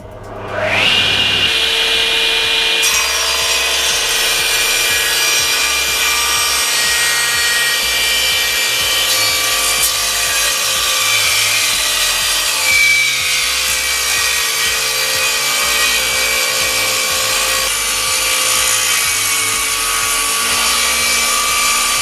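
A SIP professional cast iron table saw spins up with a rising whine, then cuts wood in a long, loud, steady high-pitched whir and grind that holds for over twenty seconds, close and without talk.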